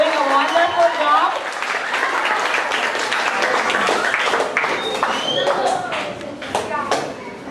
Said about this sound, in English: give a round of applause for all our students here